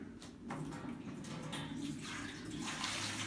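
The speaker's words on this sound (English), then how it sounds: "So right now what we're going to do is Ryan's take one, I'll take one. We'll pour into the" Maple sap is poured into a stainless steel evaporator by hand, a steady splashing stream of liquid heard close up with a faint bird call in the background.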